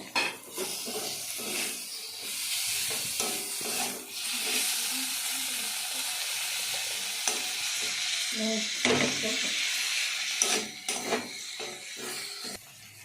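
Chopped tomato with salt fries in a pan while cooking potol chingri, a continuous bright sizzle with intermittent scraping and stirring clatter throughout, close and steady.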